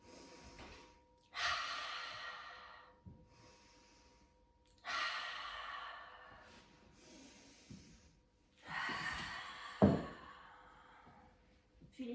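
A person takes three deep breaths, drawing in through the nose and blowing out forcefully through the mouth during a lying-down yoga relaxation. Each breath is a close, rushing exhale with quiet pauses between, and one ends in a slight catch.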